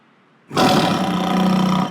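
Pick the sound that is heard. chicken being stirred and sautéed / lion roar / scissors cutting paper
lion roar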